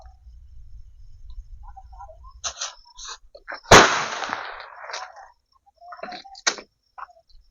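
A single bijili firecracker from a Sivakasi cracker box goes off outdoors in one sharp, loud, close bang, with a brief decaying crackle and scattered quieter clicks before and after.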